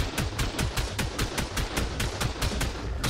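Rapid automatic turret gunfire from the video game ARK, a steady unbroken stream of sharp shots at a fast even rhythm, loud and close with a dense low rumble underneath and no talking.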